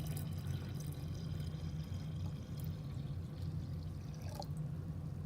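Filtered water poured into a jar while making a kombucha scoby, a steady close splashing and trickling pour that runs without pause for several seconds, with no talking over it.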